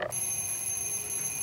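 An alarm clock rings continuously with steady high-pitched electronic tones, close and fairly loud, alone with no talk, early in the morning at a summer job.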